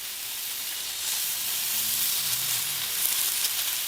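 Beef chicharron frying in a pan on high heat gives a steady bright sizzle and hiss, close and continuous, with a few louder crackles and no talking.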